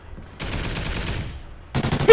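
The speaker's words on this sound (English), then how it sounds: "That good guy sentry gun." Sentry gun in a multiplayer shooter game, firing two bursts of rapid automatic fire, the first about a second long and the second cut short at the end, with a brief quiet gap between, fairly close and without talk.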